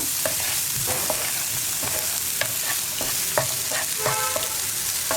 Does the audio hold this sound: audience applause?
no